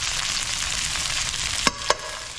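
Broccoli rabe and garlic sizzle loudly in a frying pan, a dense continuous crackle close to the ear, broken near the end by two quick stirring clacks of a utensil against the pan.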